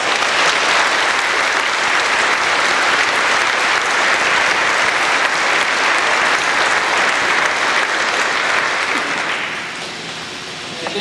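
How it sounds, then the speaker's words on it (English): Dense, sustained applause fills a banquet hall as the audience claps steadily and loudly, then thins and fades slightly toward the end. "Let's give them a big round of applause."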